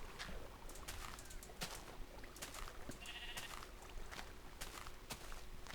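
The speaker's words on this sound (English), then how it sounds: "Hello sheep." A sheep bleating in the Minecraft video game, a faint short bleat amid quiet ambient game sounds and soft clicks.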